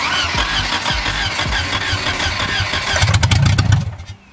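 A 1978 Volvo engine being coaxed to start, the starter cranking in a loud rhythmic churn that builds into a brief rough sputtering catch before fading, close by with no talk.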